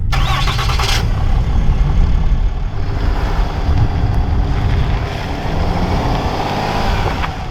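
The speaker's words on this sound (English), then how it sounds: "I figure it's time we fire this girl up and get her down the road." A RAM 3500 pickup's high-output Cummins diesel engine starts and then settles into a steady, loud idle up close. A sharp start burst comes at the beginning, and a deep rumble continues after it with some wind buffeting.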